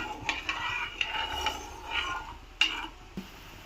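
A spoon stirs boiled chana dal and salt in a metal pot, giving several light scraping clinks against the metal at an uneven pace over a soft background hiss.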